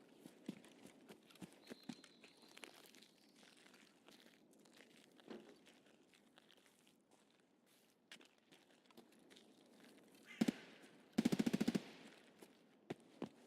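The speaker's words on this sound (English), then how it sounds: "That's a fast-firing AK." Fast-firing AK rifle in the game Escape from Tarkov: a short automatic burst, then a longer rapid string of shots near the end, after quieter stretches of scattered footsteps and faint clatter.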